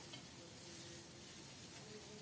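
Cauliflower frying in a pan, stirred until browned: a steady, soft sizzle with a faint hiss running unbroken throughout, quiet and close.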